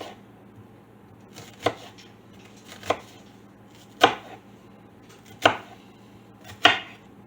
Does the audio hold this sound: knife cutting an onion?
yes